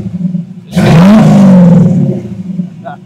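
A 1932 Ford Coupe Highboy, a hand-built custom with an automatic and about a 2200 stall converter, gets a short throttle blip that swells into a loud close rev and then falls back to a rumbling idle.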